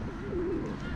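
A soft, low cooing call from a bird, brief and close, over a steady background murmur.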